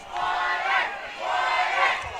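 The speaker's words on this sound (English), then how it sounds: "Crowd starting to chant Warriors here." A high school football crowd chants 'Warriors' in two swelling waves, a loud, roaring mass of voices filling the stands.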